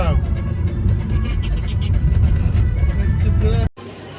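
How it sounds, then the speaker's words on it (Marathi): A car engine runs steadily with a broad, loud rumble, voices talking over it, before the sound cuts off abruptly near the end. "गाडी चालू"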